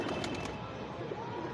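Close cooing of a pigeon, specifically a male in a rooftop pigeon-keeping setup, low soft murmuring coos carrying steadily through the short stretch with no talk over it.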